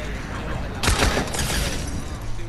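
A no-scope sniper rifle fires in Fortnite: one sharp, loud crack bursts out partway through and trails off into a rumbling decay over steady game background noise.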